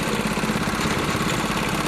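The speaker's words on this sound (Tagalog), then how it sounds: "Makina na ano yan, SYM 110. Yan ang gamit ko." SYM 110 motorcycle engine rigged to haul a swordfish and giant squid longline, running close and loud as a steady buzzing drone with a rapid even pulse, no voices.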